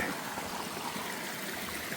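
Water trickles steadily out of rocky outlets beside the Appalachian Trail in the Grayson Highlands of North Carolina, a continuous close burbling stream with no voices over it.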